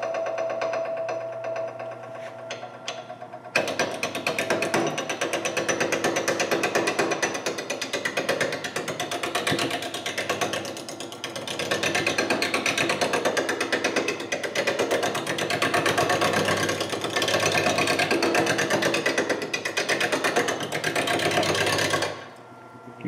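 A wood lathe turns a spinning top as a hand tool cuts the spinning wood, giving a steady loud whirring, rattling drone with fine ticking chatter. It starts abruptly after a quiet lead-in, runs continuously, dips briefly midway and stops near the end.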